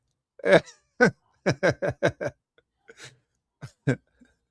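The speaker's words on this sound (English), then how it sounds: "And then they start coughing." A burst of short, sharp coughs and hacking sounds in quick succession, several voices overlapping briefly, then a few scattered coughs trailing off.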